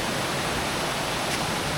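A jungle stream pours steadily into a pool, making a continuous broadband rush of water that holds an even level throughout, with no voices.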